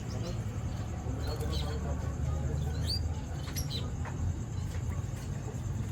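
Gouldian finches in pet shop cages give faint, sparse chirps and tweets amid a busy shop room, with someone talking over them.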